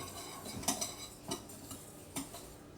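Paprika and spices stirred together in a bowl, with a handful of light clinks and ticks of a utensil against the bowl over a soft scraping background, fairly quiet and close, no talking.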